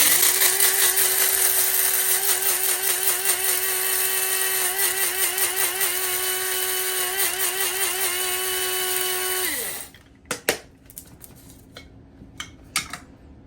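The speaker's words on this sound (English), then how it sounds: "we're going to grind them up to an espresso level consistency" An electric grinder grinds Swiss water decaf organic coffee beans fine enough for espresso, a loud steady whirring buzz for about ten seconds that winds down, followed by a few scattered knocks and taps.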